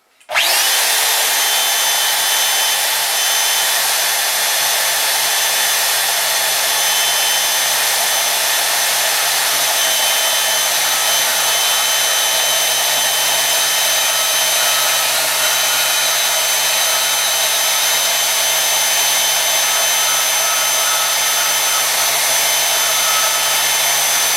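Band saw mounted on a Swag Off Road table cutting tubing at slow speed, a loud, continuous whine and rasp that holds steady for over twenty seconds with no pauses.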